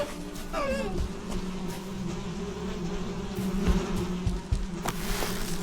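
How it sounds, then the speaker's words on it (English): Steady droning buzz of bees throughout, with a few faint chirps and clicks mixed in, no talking, in the video game Valheim. "I hear bees in there."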